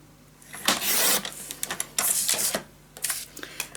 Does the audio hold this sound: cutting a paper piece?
yes